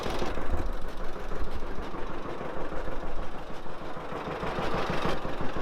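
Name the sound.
old tractor engine running with exhaust manifold leak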